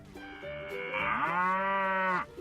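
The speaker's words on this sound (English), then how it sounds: "What does the cow say?" A single cow moos in one long, loud call that rises and holds steady for about two seconds, close by and alone with no talking.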